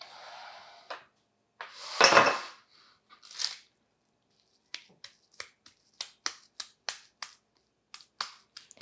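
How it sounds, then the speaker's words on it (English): Hands shape keto chicken sausage burger patties flecked with fresh parsley. Soft handling noise comes first, then a louder mid-section and a quick run of sharp, wet pats and slaps, all close and with no talking. "So now I just form the patties."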